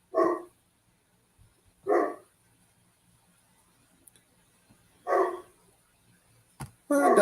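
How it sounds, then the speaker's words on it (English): A dog barks in a few separate loud, close single barks spaced seconds apart, with quiet gaps between them and a final burst at the end. "My doggy likes to bark."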